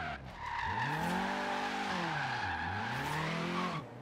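A Volvo 242 Turbo in Forza Horizon 3 drifts with loud, sustained tire squeal whose pitch dips and rises through the slide, over a continuous engine drone.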